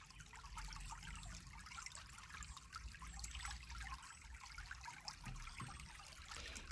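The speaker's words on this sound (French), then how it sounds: "Telle la rivière ici présente, elle continue sa course." River flowing steadily, a faint, even wash of running water with a trickling, babbling texture that continues without pause, with no voices.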